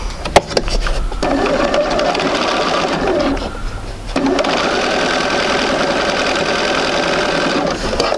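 A sewing machine stitches a quarter-inch quilting seam with a steady, loud mechanical whir, briefly pausing and restarting midway, then running continuously near at hand.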